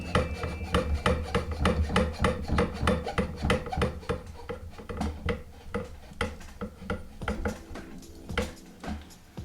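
Regulator being threaded onto an Evanix Air Speed air rifle and tightened by hand, heard as a close, steady run of small metallic clicks, taps and rubbing scrapes with no talking.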